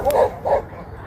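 Guard dogs bark twice in quick succession, two short, fairly close yaps with a faint whimpering tone.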